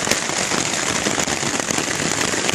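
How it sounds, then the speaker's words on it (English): Heavy rain pours steadily on a campsite during a nighttime thunderstorm, a dense, continuous hiss of drops drumming nearby with no pauses. "Rain's coming down pretty good outside."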